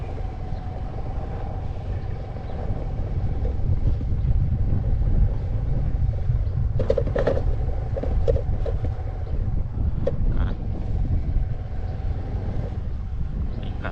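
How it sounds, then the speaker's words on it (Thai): Strong wind buffets the microphone while riding a Yamaha motorbike outdoors past a newly planted forest garden with banana trees, a steady low roaring rush throughout with a few faint clicks in the middle. "ลมแรงครับ"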